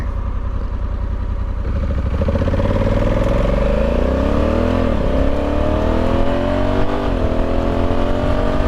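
Honda Africa Twin DCT motorcycle pulling hard in Sport 3 mode, its loud engine note climbing steadily with two quick automatic gear changes dropping the pitch before it rises again, close and continuous with no talk.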